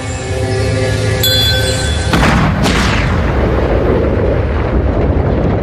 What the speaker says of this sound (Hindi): पृथ्वी पर इतना एंटी मैटर नहीं है कि उसमें ऐसा विस्फोट हो सके